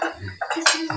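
Plates being handled in a home kitchen clink and knock together in a few quick, close, irregular bursts, with one brighter clatter near the end.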